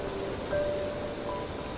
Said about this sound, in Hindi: कुछ ही देर में काफ़ी तेज़ बारिश होने लगी।